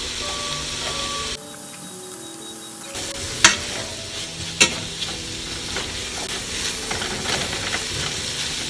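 Garlic sizzles in a pan alongside lamb shanks, a continuous hissing fry broken by a brief quieter gap and a few sharp clinks of stirring, with no talking.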